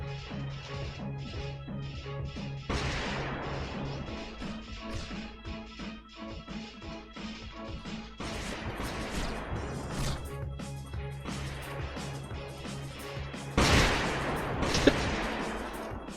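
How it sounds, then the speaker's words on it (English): Explosions boom in the underwater fish-battle video game Ace of Seafood, several loud bursts standing out over a busy backdrop of rapid popping and crackling game effects. "It's a lot of explosions."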